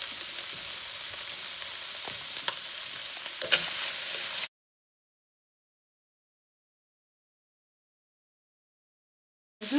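Olive oil sizzles in a frying pan, a steady hiss with brief louder crackles, cutting off to silence midway before resuming at the end.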